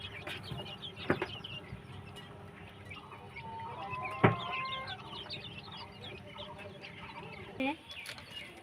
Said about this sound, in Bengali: কোয়েলগুলোকে দেখো